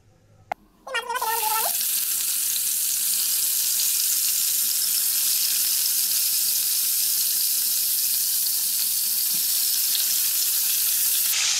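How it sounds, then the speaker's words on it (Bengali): Rui fish lands in hot oil in a kadai, and after a short quiet start with a brief squeaky sound, a loud, steady sizzle takes over and fills the rest without pause. "তো মাছটা আমি ভালো করে ভেজে নেবো এবার।"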